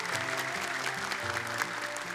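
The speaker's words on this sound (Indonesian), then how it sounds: "Boleh tepuk tangan." Studio audience applause on a children's Quran memorization TV show after young contestants finish, a short burst of clapping mixed with a steady musical tone underneath.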